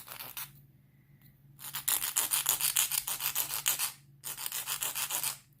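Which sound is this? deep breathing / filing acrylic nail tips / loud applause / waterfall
filing acrylic nail tips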